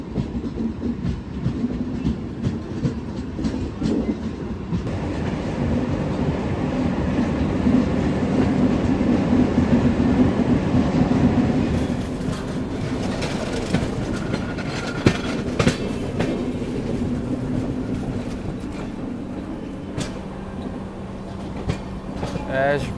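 The crowded Katihar-Amritsar Amrapali Express, running late, rumbles along with steady wheel clatter and rail noise throughout, faint voices mixed into the continuous din.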